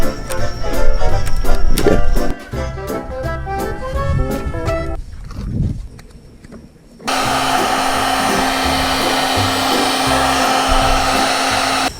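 A heat gun or hair dryer warming 3M adhesive tape on an underglow LED strip at night, a loud steady blowing whine that drops away briefly and then returns at a constant roar.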